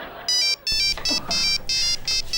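A phone rings with a loud electronic ringtone, repeated bright tonal bursts in quick rhythmic pulses, near and clear with no talk over it.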